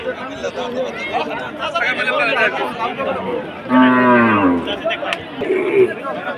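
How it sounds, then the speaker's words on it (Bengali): Cattle moo amid a noisy crowd, one long low bellow standing out over steady chatter of many voices at a busy village cattle market. "এগুলো সার গরু আর কি"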